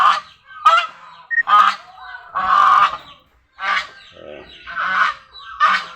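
Newly hatched ducklings, four to five days old, and their mother ducks call in loud, close bursts of honking quacks with short pauses between them, with no speech.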